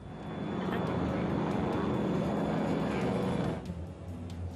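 A fixed-wing aircraft on final approach to land over the North Sea during an emergency, its engine drone loud and steady before easing slightly near the end.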